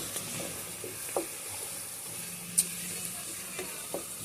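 Green peppers sauteing on lowered heat give a soft, steady sizzle close by, with a few faint clicks and utensil taps over the gentle hiss.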